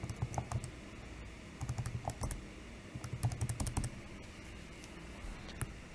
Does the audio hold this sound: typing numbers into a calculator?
yes